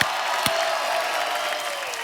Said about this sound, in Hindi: एक बार जोरदार तालियां बनती है यार